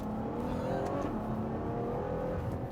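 A Ferrari engine drones steadily and loudly from close by, holding a continuous, slightly rising tone without pauses.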